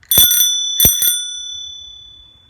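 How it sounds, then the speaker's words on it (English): A bicycle bell rings twice in quick double dings, bright and close, the metallic tone ringing on and slowly fading away. "Oh, and you have a bell?"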